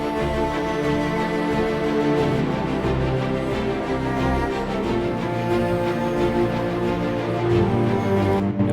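A full orchestral string section sustains chords over low-end strings that thicken the sound, a dense, loud, continuous texture from an epic trailer piece with no voices.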